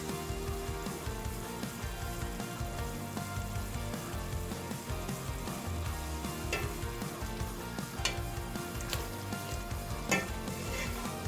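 A thick Japanese-style curry with sauces sizzling in a pan while being stirred, a dense continuous bubbling fry with occasional sharp utensil scrapes and clinks against the pan.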